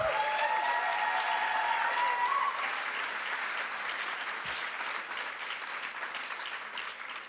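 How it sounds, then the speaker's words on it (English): A conference audience gives a round of applause for Sister Vivian, a full, steady clapping crowd that starts loudest with a brief tonal sound over it, then gradually tapers off. "Let's give Sister Vivian another round of applause."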